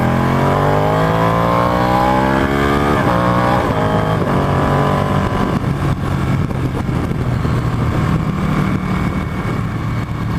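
A Ducati 899 Panigale motorcycle pulls away, its loud engine note rising through the gears and then settling into a steady, continuous roar as it rides off.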